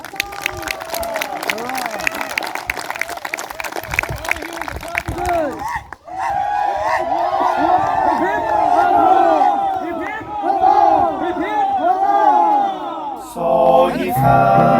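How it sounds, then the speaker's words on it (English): A crowd at a Civil War reenactment marking the 160th anniversary of the Second Battle of Kernstown breaks into loud cheering, whooping voices and clapping, rising after a brief lull and staying dense and close. "So give yourself a round of applause."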